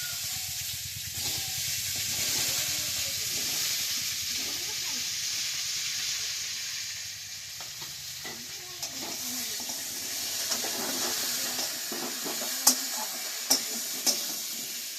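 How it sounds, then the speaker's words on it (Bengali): Cauliflower florets fry in hot oil in the same pan just used for koi fish, producing a steady, even sizzle and hiss. Sharp utensil clicks and taps come in toward the end. "এবার আমি ফুলকপিগুলো ভেজে নেব, গরম তেলে দিয়ে দিচ্ছি।"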